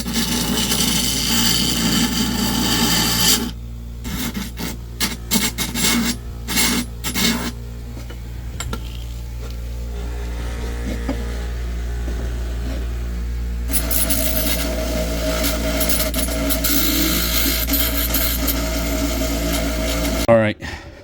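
A rotary tool shaves down a small part, giving a steady high whine that stops and starts in short bursts of grinding, with brief pauses of near-quiet between passes.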